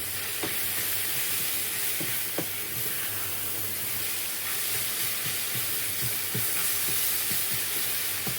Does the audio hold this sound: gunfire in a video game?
no